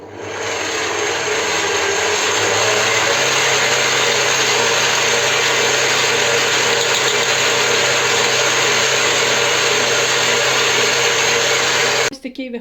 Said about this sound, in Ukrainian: збиваємо масло і поступово додаємо оцей заварний крем